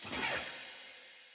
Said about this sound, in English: this hi-hat diddle, I don't know what to call it, and a guitar scratch effect from my hardware toolkit